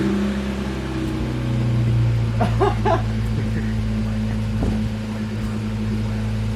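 A muffler-deleted Acura Integra engine drones low and steady with a loud exhaust hum, swelling briefly in a couple of revs while voices talk faintly nearby.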